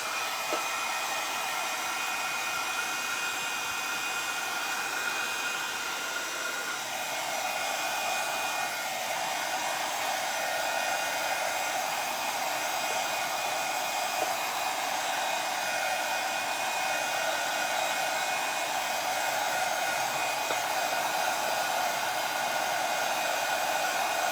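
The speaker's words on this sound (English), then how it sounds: "I'll dry it with a hairdryer" A hair dryer blows steadily at close range on a painted pottery vase, a constant whooshing roar with a faint high whine, no voices.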